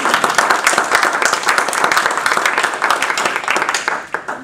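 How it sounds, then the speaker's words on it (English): An audience at an academic talk applauds to welcome a speaker, close, loud, crisp clapping from a room of people that holds steady before tapering at the end. "Please welcome him with applause."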